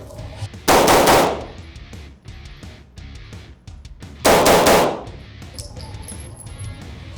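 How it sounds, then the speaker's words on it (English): A handgun fires at a target in complete darkness, giving two loud, harsh blasts a few seconds apart. Each blast rings out briefly, with quiet stretches around them. "we're going to show a couple shots on target from complete darkness"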